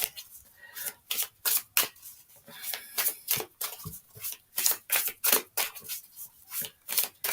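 Tarot cards being shuffled by hand, a fairy-themed deck, giving repeated crisp riffling bursts in an uneven rhythm, close and fairly quiet, with no voices over them.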